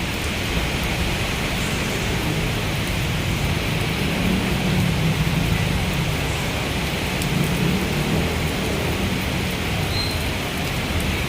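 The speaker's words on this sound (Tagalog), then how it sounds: "Malakas na talagang ulan mga kabayan ko." Heavy rain pours down steadily by Manila Bay, a dense unbroken roar with no voices.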